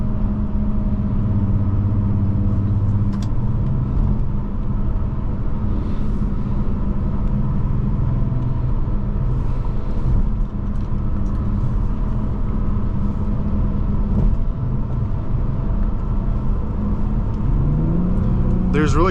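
A 2008 Bentley Continental GT drives and accelerates in a steady low engine rumble heard from inside the cabin, building gradually toward the end, while someone talks over it.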